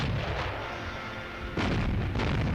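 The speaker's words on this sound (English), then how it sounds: "Almost immediately, shore batteries opened fire." Coastal shore batteries of 88mm flak guns fire on a warship close to shore, producing dense, rumbling booms that overlap continuously, with a sharper, louder volley breaking out partway through.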